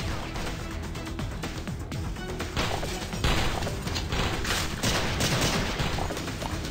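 A sniper rifle fires in the video game Sift Heads Reborn, with repeated sharp gunshots cracking in quick succession amid a busy stretch of gunfire.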